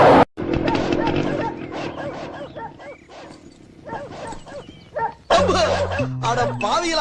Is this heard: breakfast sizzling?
no